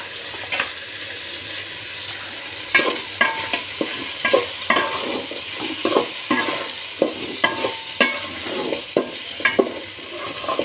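Spices fry lightly in a pan for egg khichuri while a spatula stirs them in repeated clinks and scrapes over a continuous low sizzle.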